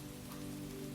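Rain falling outside a small forest cabin, a soft, steady wash of drops hissing evenly and faint in the distance, with no voices.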